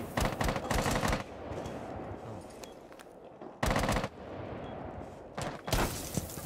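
Video game gunfire comes in three rapid automatic bursts, loud and close, with quieter stretches of ambient noise between them.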